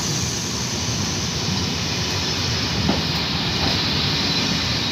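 Corail Intercités train with its locomotive at Lisieux station, a steady low rumble and rolling hiss heard at moderate distance, with no clear clicks standing out.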